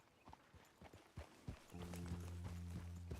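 Horse hooves in Red Dead Redemption 2 clip-clop in a steady rhythm, first as separate hoof strikes and then under a rising engine-like tonal drone as the ride continues.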